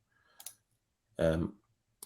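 Computer mouse clicks sound as isolated, sharp taps with a short burst of speech between them, close and quiet.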